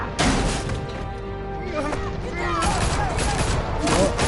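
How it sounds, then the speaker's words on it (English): Gunfire in the video game TT Batman, with rapid shots, crashes and thuds rolling through a busy, noisy game scene, loud and close, with a voice heard partway through. "why are they shooting the Batman?"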